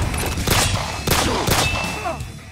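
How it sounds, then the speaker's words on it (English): Video game gunfire from a Deathstroke vs Wolverine fight: several sharp, loud bursts in quick succession over a couple of seconds, with metallic ringing tails between shots. "So I'm sure guns are pretty damn loud when they fire them by the face"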